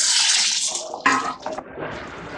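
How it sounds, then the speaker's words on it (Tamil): Tamarind water poured into a pan for a garlic gravy, a close splashing pour that starts abruptly and then breaks into a few shorter gushes, with no talking. "இப்போ நம்ம கரைச்சி வச்சிருக்கிற அந்த புளியை ஊற்றிக்கலாம்."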